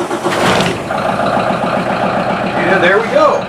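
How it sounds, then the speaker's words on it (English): A classic powerboat's engine turns over and settles into a steady, loud, rumbling idle that stays close and constant, with a voice speaking over it. "I'm going to start the engine up"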